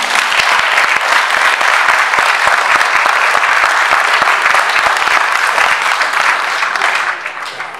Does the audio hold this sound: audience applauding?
yes